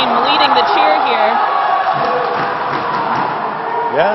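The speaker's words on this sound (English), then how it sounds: "Canadian fans really trying to pump up their squad right now." Canadian fans cheer and chant loudly to pump up their squad at a women's USA versus Canada dodgeball world championship match in Cancun, a steady roar of voices with a commentator talking over it.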